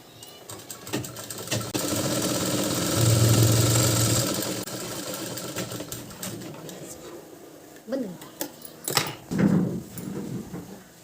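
An electric sewing machine runs through a stitching pass on a strip of fabric cord, its motor whirring steadily and loudest midway, then giving way to a few short knocks and handling sounds near the end.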